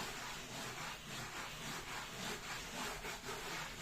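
Firm back-and-forth scrubbing as grime is rubbed off during cleaning, a continuous close rasping swish with a gentle periodic rhythm and no talking.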